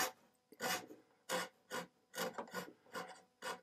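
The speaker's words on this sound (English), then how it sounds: "all you need to do is flex it a little bit and scrape it in the spot that you want it to" A hand scraper works across the wood surface of a broken desk under repair, making a series of short, dry rasping strokes, about eight close scrapes in an uneven rhythm with brief pauses between.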